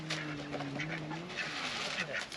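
Two pet ducks call with quacks and nasal honks near a caravan, a steady run of calls with some talk nearby.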